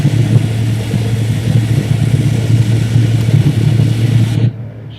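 The outboard number 4 engine of a C-130 turboprop aircraft spins up during startup with a loud, steady droning roar and low hum, then cuts off abruptly near the end.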